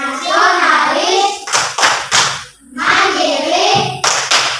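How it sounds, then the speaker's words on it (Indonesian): A class of schoolchildren performs the rhythmic tepuk PPK clap, sharp patterned bursts of hand claps separated by stretches of children chanting together in a classroom, close and lively. "Mari kita melakukan tepuk PPK dan salam PPK."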